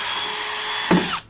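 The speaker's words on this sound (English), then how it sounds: "at the very end you want to pre-drill your holes" A steady high whine of a power drill pre-drilling screw holes in deck wood, with a brief louder bite near the end before the motor cuts off.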